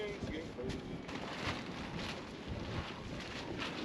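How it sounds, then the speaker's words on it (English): Gusty wind buffeting the microphone outdoors while setting up an above-ground swimming pool, a low rumbling roar with brief louder bursts, faint and continuous. "Because the wind's getting crazy."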